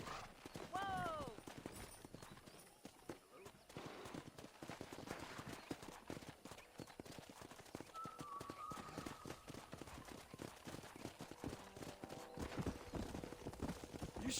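Horse hooves clip-clop steadily through a Red Dead Redemption horse-breaking scene, with a brief neigh early on, game music and a voice talking over the busy, continuous activity.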